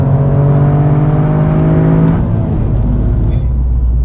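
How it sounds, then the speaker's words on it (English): A Toyota GR Yaris driven hard on the Sepang race track: a loud, sustained engine drone that drops in pitch midway as the throttle eases, heard from inside with a driver talking over it. "Chasing a Supra in a GR Yaris in"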